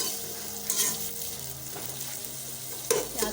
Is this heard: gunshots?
no